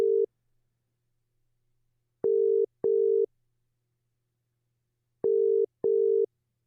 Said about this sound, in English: I am calling a friend now. Hopefully we'll be able to hear this ringing.